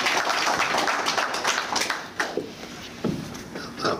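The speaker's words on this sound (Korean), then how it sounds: "박수로 모시겠습니다" Audience clapping at a celebration gathering greets an elderly Catholic priest as he is called up, a dense, close round of hand claps that thins toward the end.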